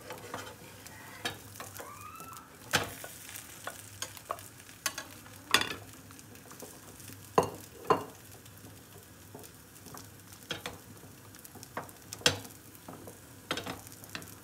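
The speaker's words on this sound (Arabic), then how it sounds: "والشعريه كنقلوها شويه بشويه بحال ما هكا" Vermicelli is stirred into a pot of harira soup, giving soft scraping strokes and sharp spoon clinks at irregular intervals over a faint simmering hiss, close and fairly quiet.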